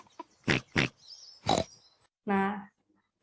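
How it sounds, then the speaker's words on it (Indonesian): A cartoon pig from Peppa Pig gives one short, voiced oink with a rising, nasal tone, following a few sharp bursts of cartoon giggling or squealing. The oink stands clearly on its own. "di sini ada Peppa lagi suaranya suara babi gitu kan"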